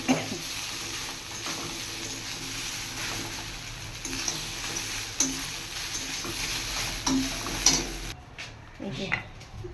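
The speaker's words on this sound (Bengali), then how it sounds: "ব্যাস এইভাবে ভেজে নামিয়ে নিলেই হয়ে যাবে রেডি।" Leftover idli with turmeric powder fries in a pan, with a steady close sizzle and the scrape of stirring, until the frying noise cuts off near the end.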